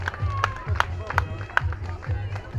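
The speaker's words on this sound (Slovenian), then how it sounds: "Publika, a bomo naredili en ful velik aplavz za njih" Spectators at the zYpper Open 2024 tournament final clap in a steady, even rhythm of sharp beats, moderately faint, with crowd murmur and babble underneath.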